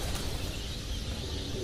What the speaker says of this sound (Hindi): कबूतर डर गए हैं जी।